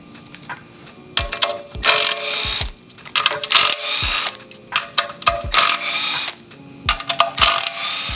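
A socket wrench ratchets on a bent oil pan bolt of a Toyota 2JZ engine during a teardown. Close, loud bursts of rapid clicking come in repeated strokes separated by short pauses, with a few metallic knocks between them.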